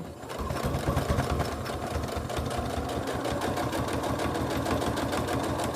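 Sewing machine stitching back over pleats on a fabric face mask, a steady rapid mechanical chatter with a fast even rhythm running throughout, close and continuous with no talk.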